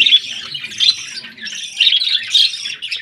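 Baby birds in a nest pot chirp in short, high bursts, several overlapping calls rising and falling close by with brief gaps between them.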